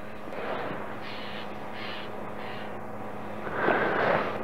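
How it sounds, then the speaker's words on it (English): A bird on a mountaintop gives several short, harsh crow-like caws at spaced intervals, moderately near, with one louder, rougher cry near the end over a steady breeze. "And every now and then, a little cry of a bird,"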